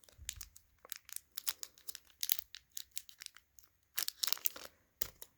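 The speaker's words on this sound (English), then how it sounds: "Got the scissors." Close, crisp crinkling and tearing of a foil Pokémon card pack being cut open with scissors in short bursts, with brief pauses between snips and rustles.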